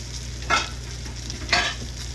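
Fajita peppers and onions sizzling in a hot pan, with two distinct stirring scrapes about a second apart over a steady low frying hiss.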